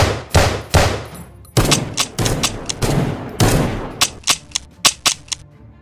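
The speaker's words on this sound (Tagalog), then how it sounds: "sabay kalabit sa gatilyo ng kanilang mga baril" Several loud gunshots from firearms in a Filipino horror audio drama about an aswang hunter, fired in quick bursts then a rapid volley of sharp reports, close and dominant with no talk.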